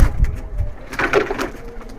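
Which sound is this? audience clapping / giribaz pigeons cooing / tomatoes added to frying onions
giribaz pigeons cooing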